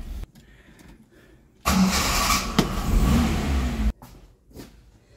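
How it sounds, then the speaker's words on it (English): Nissan 1400 bakkie engine starting with a sudden burst, idling and revving briefly close by for a couple of seconds, then cut off abruptly into quiet. "Alright, engine seems to be running quite nicely."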